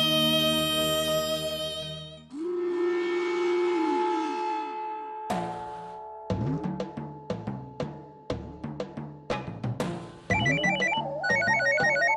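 A phone ringtone plays loudly, a repeating electronic melody of bright tones that shifts pattern partway through, with no voices.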